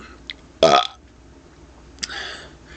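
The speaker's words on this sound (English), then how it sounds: "my first video of burping Rick quotes from Rick and Morty" A person lets out one loud, throaty burp, then a softer, shorter one after a quiet pause, both close and clear against near silence.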